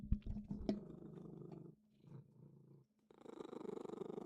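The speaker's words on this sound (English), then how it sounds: "Hang on, he's purring really loud here." A pet cat named Jordan purrs loudly and close, a rumbling low drone that pulses in uneven stretches and briefly drops out before returning stronger and rougher, with no talk over it.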